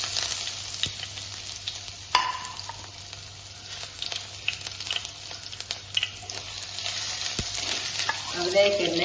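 Shallots and ginger frying in hot oil with mustard seeds, a steady close sizzle with scattered sharp pops and a few stirring scrapes, growing louder near the end.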